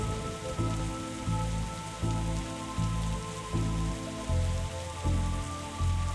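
Steady rain patters on surfaces in The Darkside Detective, a constant hiss layered over a looping, rhythmic low musical pulse that repeats about every second and a half.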